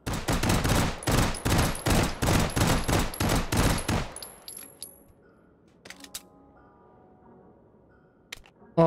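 A full magazine emptied in rapid automatic fire in the VR shooter Hot Dogs, Horseshoes & Hand Grenades: loud, close shots for about four seconds, then quiet with a few faint mechanical clicks and handling noises.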